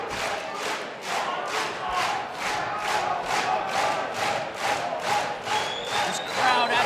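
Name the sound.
MMA fight crowd roaring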